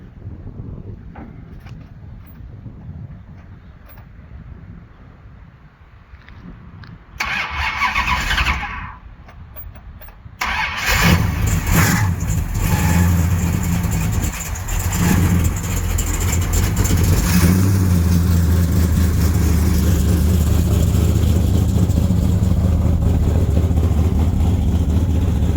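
A Mopar Pro starter cranks a high-compression 1968 426 Hemi, which catches and fires into a loud, rough, thundering idle with revving close by. A quieter stretch comes first, and no one speaks.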